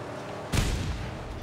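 A single loud gunshot fired in the Mad Max video game, a sharp close blast with a booming tail that fades over about a second, no talk.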